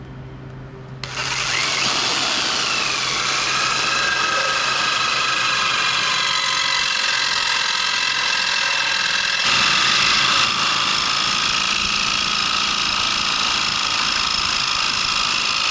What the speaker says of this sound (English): So we've just used a metal bit on the jigsaw before, a little bit of cutting oil